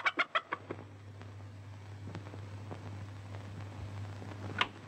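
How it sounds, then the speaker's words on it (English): A hen sitting under a bed clucks in a quick burst of about six sharp notes, then goes quiet over a low steady hum, with one more cluck near the end; close and fairly faint. "I have a hen sitting under the bed, and he likes to peck at her"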